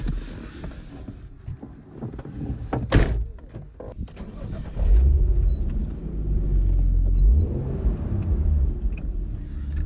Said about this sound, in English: SLS Drift Taxi, turn the volume up.